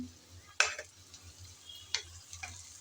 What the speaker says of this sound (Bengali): পেঁয়াজ আর রসুনের সাথে চিংড়িটাও ভেজে নেব